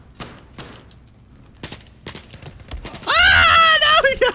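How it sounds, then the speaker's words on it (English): Sharp gunshots ring out in the game No Man's Sky, a handful of separate bursts at a loud, close range, followed by a long strained vocal cry while a person talks between the shots. "I'm gonna shoot all these."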